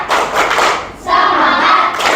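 A school class performs a rhythmic clapping cheer with chanted words, loud nearby hand claps and voices in bursts, a brief pause in the middle before the group resumes.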